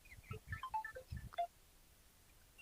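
A phone ringtone plays a short, faint, quick melodic run of electronic tones that lasts about a second and a half and then stops.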